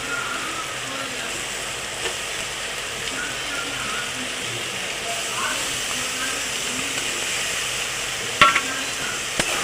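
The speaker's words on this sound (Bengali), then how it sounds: "সব সময় একসাথে করে ভালো করে নেড়ে চেড়ে কষিয়ে দেবো।" Chhana (cottage cheese) stirred and fried with spices in a pan for a vegetarian curry, giving a steady low sizzle and hiss with faint scraping of the spoon, continuous and moderately quiet.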